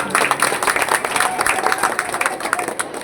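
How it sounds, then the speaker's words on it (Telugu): A crowd claps at a Shiva temple gathering on Karthika Pournami after a donation for brass plating is announced, a dense, fairly loud patter of many hands with some voices mixed in. "అందరూ చప్పట్లు కొట్టండి"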